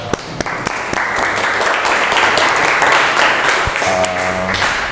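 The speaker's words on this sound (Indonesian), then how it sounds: "kita beri tepuk tangan" Classroom of students applauding a presenting group, a dense burst of clapping from many hands that starts with a few sharp claps, holds steady, then thins out with some thumps and a brief tone near the end.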